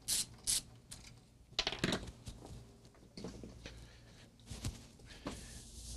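Screws are backed out of a computer case, giving faint scattered ratcheting clicks, small metallic taps and rattles at an irregular pace, with a few sharper bursts.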